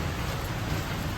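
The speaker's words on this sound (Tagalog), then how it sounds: "Umuulan na kasi." Rain falls steadily outdoors where a motorbike is being serviced, a continuous dense hiss of drops with no talk over it.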